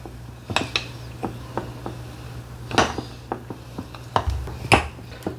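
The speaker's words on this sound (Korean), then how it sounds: "자, 이제 잘 섞어 볼게요" A spoon taps and scrapes irregularly against a container while flower mushroom (cauliflower mushroom) preserve is mixed with honey. The clinks are close and sharp, with quiet pauses between them.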